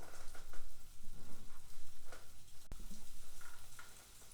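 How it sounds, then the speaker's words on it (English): Sleet falling outside during a Harley front master cylinder rebuild, a faint steady patter and fizzing hiss with one sharp click partway through, no talk. "it sounds like it's starting to sleet outside"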